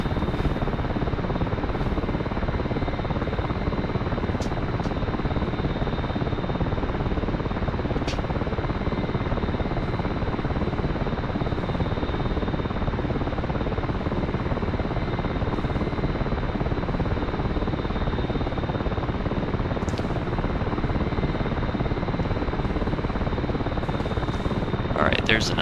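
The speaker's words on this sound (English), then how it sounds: "it's a free helicopter for DCS World" An AH-6J Little Bird helicopter in the flight simulator DCS World gives a constant, dense rotor and engine roar that holds steady from start to finish, with a faint thin whine above it.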